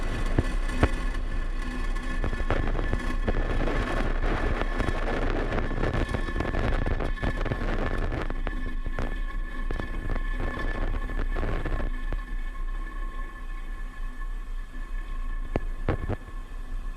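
A Falcon 9 rocket climbs after liftoff carrying Space Development Agency Tranche 0 satellites, its engines a steady broadband roar heard from a distance, with wind buffeting the microphone and no voices.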